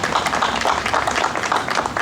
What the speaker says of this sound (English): I just would ask you to give a round of applause for your local MPP, David Piccini